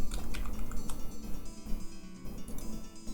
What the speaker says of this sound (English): going to Market and typing in Rhino